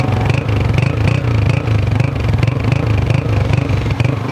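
A 2017 Honda 125 motorcycle engine runs close by with a steady low thumping exhaust pulse and light mechanical clatter throughout, loud and continuous with no talk over it.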